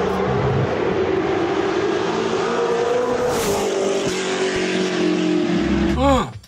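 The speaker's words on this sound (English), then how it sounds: "V8. The burble. I know you love burble like I love burble." A V8 engine rumbles with a loud, sustained low drone and pulses in pitch, ending in a quick rising rev as it passes by.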